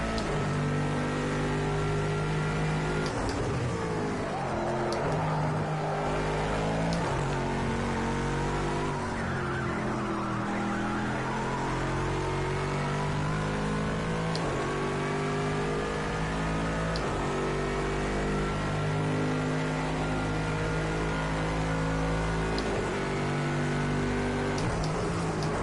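Cadillac ATS GT3 race car engine in Project Cars 2 revving steadily through a lap, its pitch rising and falling with gear changes, loud and continuous throughout.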